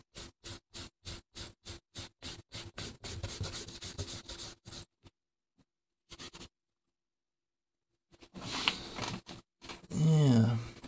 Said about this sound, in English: I'm going to take this opportunity to get my kneaded eraser and erase